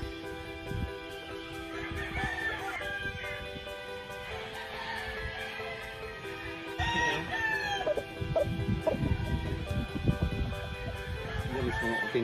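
Black Melsim chickens cluck and a rooster crows nearby over a busy farmyard background, with people talking quietly in between.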